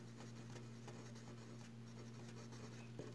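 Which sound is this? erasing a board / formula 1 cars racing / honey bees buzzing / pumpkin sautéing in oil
erasing a board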